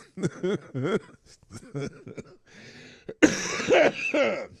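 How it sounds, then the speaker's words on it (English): Several short coughs and throat-clearing bursts, close by, mixed with a chuckle and brief muffled vocal sounds. "One of these days I'll stop coughing,"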